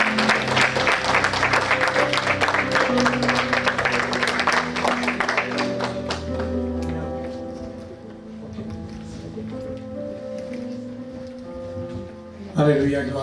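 A church congregation breaks into loud, dense applause and cheering, sustained for several seconds before fading into music and voices, with a sharp swell returning near the end.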